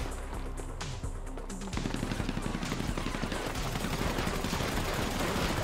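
AK rifle fire in a GTA V Online team deathmatch: after a moment of busy background noise, a dense, loud stream of rapid automatic shots rattles on steadily without pause, with no talk.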